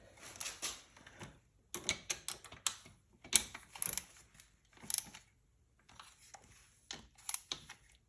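Ratcheting and tightening bolts on the starter clutch of a Yamaha Warrior 350, quiet close clicks and metallic ticks in short irregular bursts with gaps of silence.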